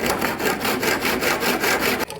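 A saw trims the end off a wooden broomstick whistle in quick, even back-and-forth strokes, close and loud, with a rasping rhythm that stops abruptly near the end.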